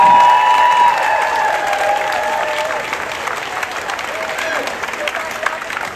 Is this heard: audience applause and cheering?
yes